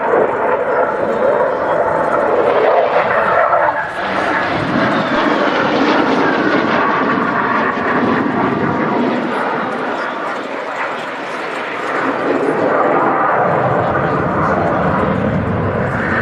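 A Czech Air Force Saab JAS 39C Gripen fighter jet roars loudly through a flying display at an air show, its engine noise steady and dense throughout, with commentators talking over it.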